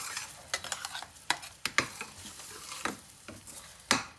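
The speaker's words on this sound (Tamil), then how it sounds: "இந்த வெங்காயம் ஃப்ரை ஆனோன்னா இதை போட்டு நல்லா வதக்கிடலாம்" Ground paste is stirred into fried onions in oil for a chicken gravy, sharp spoon scrapes and clacks against the pan recurring irregularly over a low, quiet sizzle, with no speech.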